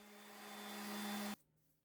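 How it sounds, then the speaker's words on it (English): A vacuum cleaner sucks up sanding debris from a poplar slab countertop, its loud steady whine building slightly before cutting off abruptly near the end. "A hand brush and vacuum removed the debris left over from the cleaning and sanding."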